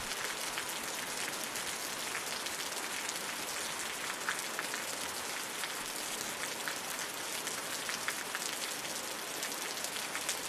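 Steady rainfall in the survival game Osiris: New Dawn, a continuous fine patter of drops on surfaces with a faint crackling, skittering texture, soft and even throughout with no talk.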